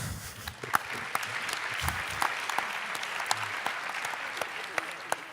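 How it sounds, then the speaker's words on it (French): Light, scattered applause from an audience at a presentation event, individual sharp claps standing out over a thin, even bed of hands, with some low murmuring near the start. "Je crois que vous pouvez l'applaudir."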